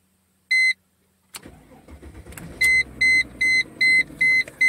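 A Mercedes-Benz SLK 320 with a transmission fault cranks briefly and starts, settling into a steady idle close by while a warning chime beeps repeatedly in a regular rhythm.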